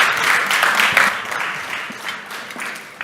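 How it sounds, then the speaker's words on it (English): An audience at a morning community summit applauds warmly, a dense steady patter of many hands clapping that gradually thins toward the end. "And one more round of applause for his entire team that came out this morning."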